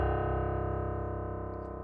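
A sampled piano note plays through NI Kontakt, one sustained, richly harmonic tone that holds steady and slowly decays, with a slight warbling pulse, alone and fairly loud.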